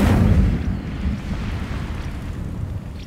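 Incendio fire spell cast in Hogwarts Legacy: a loud, deep roaring burst that swells at the start, then settles into a rumbling, crackling blaze lasting a few seconds.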